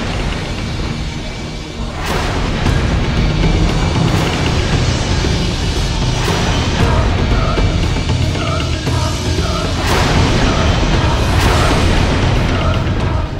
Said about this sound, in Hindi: अब पटाखे फोड़ने पड़ेंगे